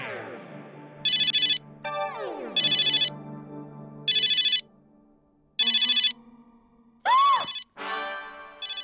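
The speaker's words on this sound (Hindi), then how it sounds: "किसका फोन है?" A telephone ringtone repeats in regular bursts of bright electronic tones, loud and close, interleaved with other short melodic chimes and no speech.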